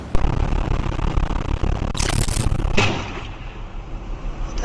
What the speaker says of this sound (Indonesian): salah satu burung itu sepertinya tersengat listrik dan memicu ledakan